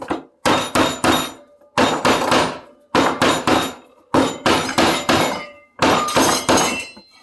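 Repeated hard, cracking whacks on a tough, rotten coconut in quick clusters of three or four, close and loud, with brief pauses between each burst of strikes.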